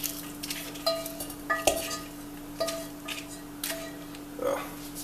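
Vegan ground meat substitute added to a hot cast iron skillet: scattered metallic clinks and scrapes of a utensil against the pan over a quiet sizzle, with a steady electrical hum underneath.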